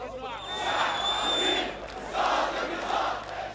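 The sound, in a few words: protest crowd chanting in the streets of Alexandria, Egypt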